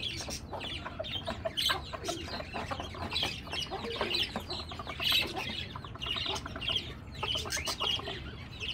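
A rooster clucks and calls in repeated bursts, fairly close, over a steady farmyard background with other fowl.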